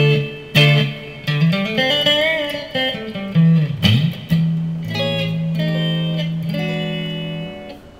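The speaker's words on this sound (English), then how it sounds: "There's an acoustic with reverb." Guitar through a Marshall Code 50 amp's acoustic preset with reverb: strummed chords and picked notes ring out, ending on a long sustained note with a lingering reverberant tail.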